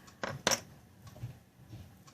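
Two quick metallic clatters as a pair of scissors drops onto a hard surface, followed by quiet rustling and faint handling noises.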